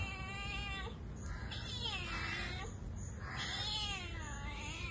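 A house cat meows several times close by, its drawn-out, wavering cries rising and falling over a low background hum.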